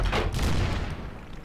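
Mech weapons in the MechWarrior: Living Legends video game let off a loud, close volley of booming, gunfire-like blasts that crowd together at the start and then trail off into rumbling echoes.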